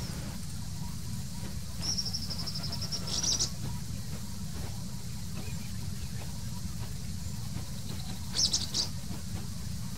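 A bagageiro bird in the caatinga gives an uncommon call: two brief, high, bright bursts several seconds apart, faint over a constant low background hum and hiss.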